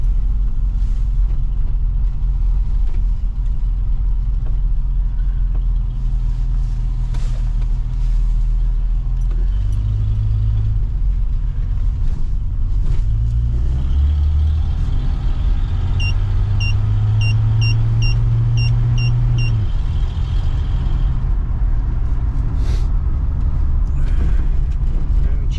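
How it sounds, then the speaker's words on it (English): A 1976 Chevrolet Nova on the road after a battery replacement, its engine and road rumble droning steadily and loud throughout, with a slight rise in engine tone partway through. "Take it for a little drive. Let's see how it does."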